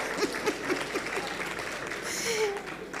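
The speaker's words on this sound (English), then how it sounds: "There is his team cheering him on." Audience at a corporate talent-attraction event applauding and cheering a speaker, with fairly faint scattered claps and a voice faintly heard at the end.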